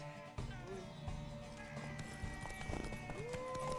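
Hooves clip-clop at a steady run amid a busy, noisy scene, with voices talking over the top and a horse whinnying briefly.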